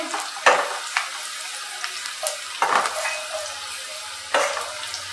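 Onions frying in a pan for Bengali-style methi chicken, browned and being stirred: a few loud sizzling bursts as the spoon moves, with quieter crackle between, no voices.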